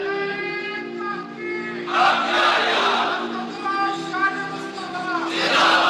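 Crowd chanting religious slogans at a sermon gathering marking the Battle of Badr, loud massed voices swelling in bursts over a steady sustained tone and a speaker's voice.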